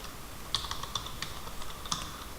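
Rapid typing on a computer keyboard, a quick run of crisp key clicks with a few louder strokes, close and alone without talk.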